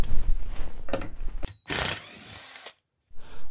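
Drywall screws are backed out of a wooden chair being repaired, with loud mechanical whirring and grinding bursts, brief clicks and pauses between runs, close up.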